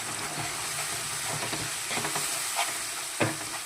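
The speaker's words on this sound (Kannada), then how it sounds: "ನೋಡಿ, ಕುದೀತಾ ಇದೆ. ಇದಕ್ಕೆ ಪುಡಿ ಮಾಡ್ಕೊಂಡಿರೋ ಅಂಥ ಪೌಡ್ರ್ ಹಾಕೊಳ್ಳೋಣ. ಮಿಕ್ಸ್ ಮಾಡ್ಕೊಳ್ಳೋಣ ಚೆನ್ನಾಗಿ." Spice powder stirred into a boiling puliyogare tamarind mixture with jaggery and asafoetida, giving a steady simmering sizzle with scattered scraping clinks of the spoon against the pan, close and moderately loud, no talk.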